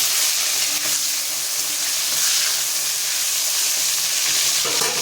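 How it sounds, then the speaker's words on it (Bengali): Eggplant sizzles in hot oil left over from frying fish, a steady close hiss and crackle of frying that runs without a break. "এবার এই তেলে বেগুনটা ভেজে নেব"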